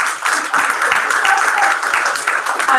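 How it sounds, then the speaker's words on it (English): An audience at a volunteer talks event breaks into loud, dense applause that holds steady throughout and fills the room. "one big round of applause for all of you today"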